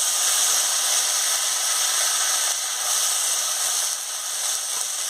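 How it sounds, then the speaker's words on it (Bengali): Steady loud sizzling hiss of cumin seeds and green chili paste frying in a pan, continuous and close with no talking. "গোটা জিরেটে দিয়ে দিচ্ছি, কাঁচা লঙ্কা বাটাটা আমি দিয়ে দিচ্ছি, দিয়ে ভালো করে ভেজে নিচ্ছি।"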